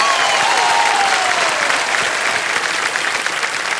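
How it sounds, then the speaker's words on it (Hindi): Loud studio audience applause on a TV quiz show set, continuous and even, with a faint sliding tonal sound beneath it early on and no talking. "ताली बज जाए इनके लिए।"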